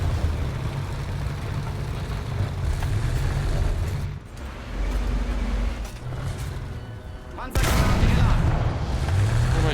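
Tank gunfire and explosions in a World War II tank video game with a King Tiger, a continuous low rumble of engine and battle noise punctuated by a sharp, loud cannon blast with echoing boom.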